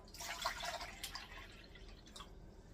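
Soft water trickling and dripping close by as water is transferred while canning sausage and beans, a few light splashes over a quiet background hiss.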